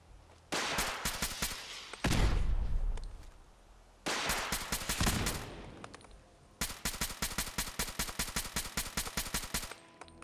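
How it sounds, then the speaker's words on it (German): Video game gunfire from .38 ammunition in Fallout 4, loud rapid automatic bursts of evenly spaced shots, one long burst ending in a heavy boom, then further sustained strings of shots. "Aber die schießen hier mit 38er Munition."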